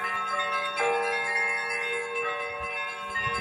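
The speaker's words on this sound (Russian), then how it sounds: "Колокольный звон, церковный звон." Church bells ring on Palm Sunday with a sustained, shimmering metallic tone, strikes overlapping and resonating, heard at moderate distance with a steady hum beneath.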